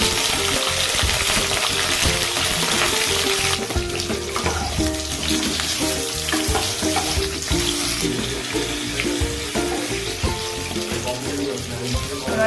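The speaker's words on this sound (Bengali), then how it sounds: "আগে বেগুনটা ভেজে নেব।" Eggplant slices sizzle and crackle steadily in hot oil in a pan, a loud continuous frying hiss with occasional stirring and clinks.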